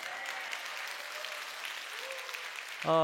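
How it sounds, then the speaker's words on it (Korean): An audience at a lecture gives a soft, steady patter of applause, fairly distant and even, with a brief voice-like tone cutting in at the very end. "박수 치시고요"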